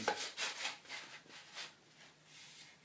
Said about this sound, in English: I'm going to slide the saw in the middle of it.